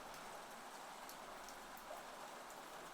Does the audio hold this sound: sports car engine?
no